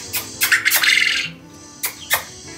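A male crow calls out in a few harsh, raspy caws, one longer drawn-out squawk followed by two short sharp ones, close and loud over a quiet background.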